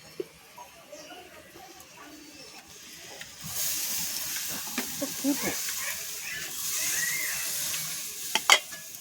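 Water goes into a hot pan of mustard hilsa curry. Quiet frying and soft clatter give way to a sudden loud, sustained sizzling hiss with occasional sharp utensil knocks.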